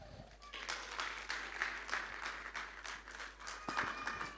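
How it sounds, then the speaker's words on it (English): A conference audience claps after an agricultural talk: steady, moderately soft applause that carries throughout the clip, with faint speech mixed in. "A round of applause again, please."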